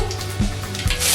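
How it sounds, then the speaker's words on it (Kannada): Spices sizzle in hot oil for tempering, with fennel seeds going into the oil for homemade masala puri; a soft, close frying hiss swells brighter toward the end, broken by a couple of brief low knocks. "ಈಗ ನಾವು ಒಗ್ಗರಣೆ ಮಾಡ್ಕೊತಾ ಇದ್ವಿ. ಒಗ್ಗರಣೆಗೆ ಎಣ್ಣೆ ಮತ್ತು"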